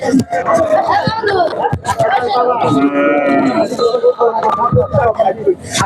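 Cattle moo repeatedly over a busy crowd of people chattering at a temporary pre-Eid cattle and goat market, a loud, dense livestock scene with animal calls near and far.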